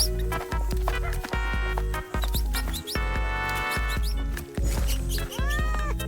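Cartoonish cat meows in a farming video game, several short mewing calls over bouncy game music, with squeaky mouse-like chirps mixed in.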